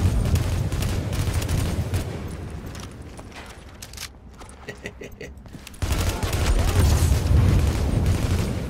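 Gunfire bursts and a grenade blast from combat in The Division video game, loud dense fusillade throughout, dipping briefly midway before heavy firing resumes.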